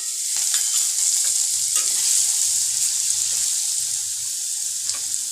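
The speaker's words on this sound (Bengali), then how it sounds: "জিরেটা আমি 5 সেকেন্ড ভাজতে দিয়েছি।" Cumin seeds and garlic fry in hot oil for an egg and potato curry, with a loud, continuous close-up sizzle and faint stirring scrapes underneath.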